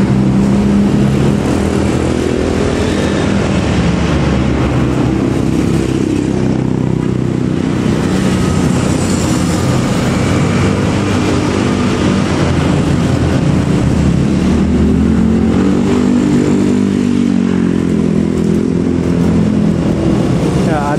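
A Karunia Bakti bus labours uphill on the road at Cipatat, Bandung, its engine a loud, continuous low drone mixed with traffic rumble, steady throughout with slight swells as it climbs.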